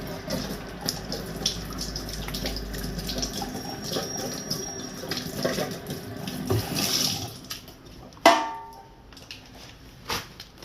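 Tap water runs steadily from a faucet as a syringe plunger is rinsed, with a sharp clang near the end followed by a few smaller knocks; no talking.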